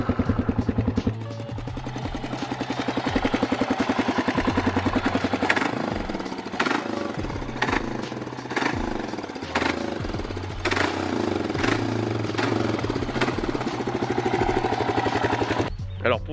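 A Kawasaki KLR 600 motorcycle engine starts and settles into a steady, loud idle with a rhythmic thumping pulse that lasts throughout, with a brief pause near the end.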